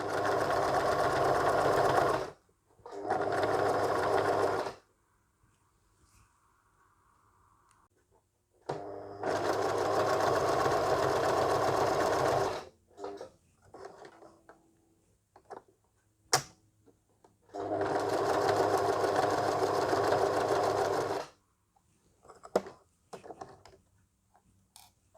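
A sewing machine stitches cotton fabric in three long, steady whirring bursts, close and loud. Quiet pauses between them hold faint clicks and handling noises as the presser foot is lifted and the fabric turned.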